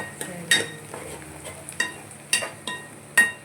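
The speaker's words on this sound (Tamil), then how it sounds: "எண்ணெய் கடுகு வெங்காயம் கருவேப்பிள்ளை வரமிளகா எல்லாம் போட்டு பொன்னிறமாக வறுத்துக்கிட்டு இருக்கேன்" Mustard seeds, onion, curry leaves and dried red chillies frying in oil while a spoon stirs them, with a low sizzle under sharp, irregular scrapes and clinks of the utensil against the pan at close range.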